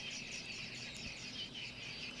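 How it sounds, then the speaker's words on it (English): Starlings calling outdoors in a nature setting, a continuous dense chatter of high chirps and whistles at moderate distance with no voices. "Just be able to hear some of the starlings."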